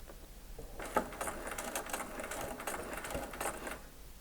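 A domestic sewing machine stitches an eight point star quilt, its needle running in a fast steady whirring patter with short pauses as the stitch length is reduced, fairly quiet and without talk.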